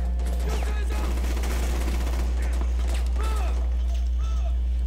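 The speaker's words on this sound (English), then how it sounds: "I'm being shot at." Distant gunfire in a video game, scattered shots cracking over a steady low hum, with talk running alongside.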